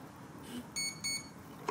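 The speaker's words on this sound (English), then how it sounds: "two beeps" Two short, high electronic beeps from a ZOHD Drift model plane's ESC during throttle calibration sound in quick succession over a quiet background.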